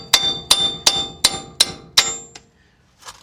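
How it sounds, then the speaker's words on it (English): Six evenly spaced metallic strikes of a brass hammer knocking out a front wheel stud on a 2006 Kia Sorento 4WD ring out close and loud, followed by a lighter knock and a faint final clink. "I'm gonna take my brass hammer, and what I'm gonna do, you just hit the side of this"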